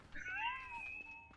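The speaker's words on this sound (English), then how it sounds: "The little green cat floating beside me." A small green floating pet cat from Dungeon Defenders 2 gives a single clear, drawn-out meow, rising then falling, close and distinct over faint background game noise.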